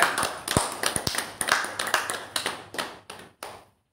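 Irregular, sparse clapping from a small audience, a dozen or so sharp separate claps spread over a few seconds, fairly close and gradually thinning out until it stops.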